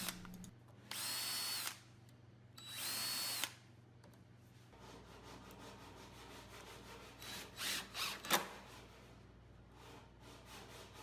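A self-centering bit drilling hinge holes in wood for a garden bench, two short bursts of whirring drill, then quieter scraping and handling noises alone.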